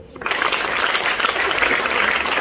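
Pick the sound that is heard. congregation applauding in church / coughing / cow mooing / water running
congregation applauding in church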